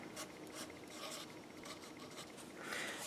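Scientific notation being written on a board, faint scratchy strokes in short repeated bursts, close and quiet, with no talking.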